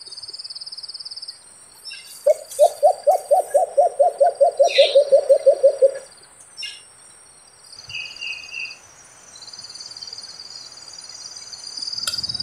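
A rapid series of about sixteen soft, evenly spaced white-eared brown dove coos, then quieter bird calls and insect buzzing in an otherwise calm outdoor setting.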